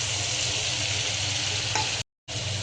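Ginger, garlic and green chili paste sputters in hot oil under a dense, continuous close sizzle with a brief stirring scrape, then a short dropout before the frying noise resumes.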